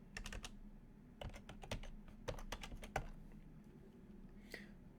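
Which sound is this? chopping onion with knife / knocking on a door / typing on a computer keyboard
typing on a computer keyboard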